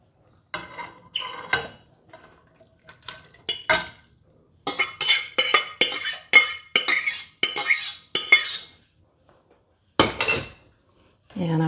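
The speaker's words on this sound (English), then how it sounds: "Going to stir part of it in and just make sure that it's getting blended nicely" A spoon stirs potato soup in a pot, giving a run of close scraping and clinking strokes against the metal, with quieter gaps between bursts.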